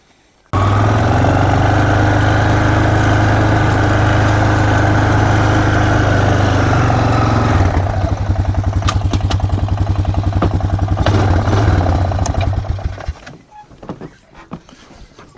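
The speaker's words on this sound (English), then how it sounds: "I might use the four-wheeler of the trailer to grab some" A four-wheeler engine starts and runs close by at a loud, steady idle. Partway through, the tone shifts to a rougher pulsing, then the engine cuts off and fades out near the end.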